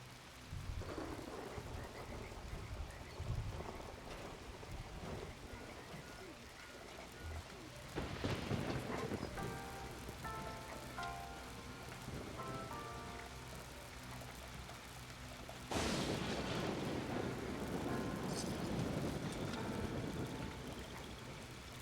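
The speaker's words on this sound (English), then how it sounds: "They have lightning weather." Thunderstorm in Fallout 76, with steady rain and two sudden loud thunder cracks that roll on for several seconds, while faint game music and tones sit underneath.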